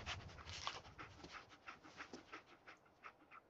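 Dogmeat, the German Shepherd-type companion dog in the video game Fallout 4, panting steadily in quick rhythmic breaths, close and moderately loud, with no talk over it.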